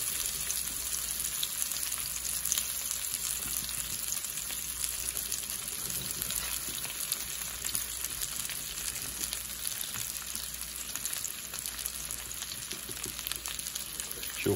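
Breakfast food frying in a pan of grease, a steady close sizzle and crackle holding at an even level throughout with no talk.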